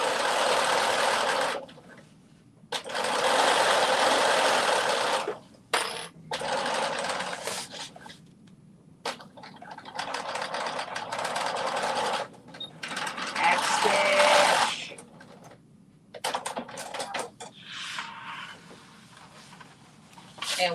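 A home sewing machine stitches the front of a skirt to the back in several separate runs of rapid whirring, broken by pauses with handling noises and brief clicks.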